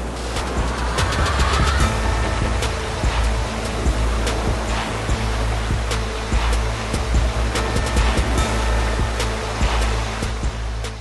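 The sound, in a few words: Renault Duster SUV crossing a river through water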